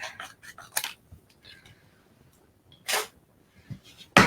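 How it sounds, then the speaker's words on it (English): Scissors snip through a paper hexagon of pebbled-path cardstock in a few short, crisp cuts spaced apart, close and fairly loud against a quiet room. "I'm going to take the pebbled path hexagon and I'm going to cut it in half."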